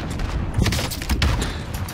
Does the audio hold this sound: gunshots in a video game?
yes